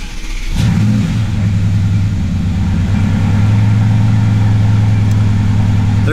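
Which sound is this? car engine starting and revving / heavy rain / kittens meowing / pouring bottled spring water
car engine starting and revving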